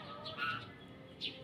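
A jalak suren, or Asian pied starling, gives a few faint, brief high chirps and whistled notes in two short bursts, heard quietly against low background hiss.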